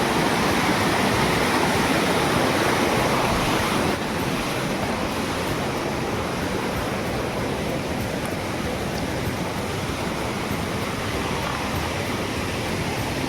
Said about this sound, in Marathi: हे बघा, हा बघा आमचा धबधबा.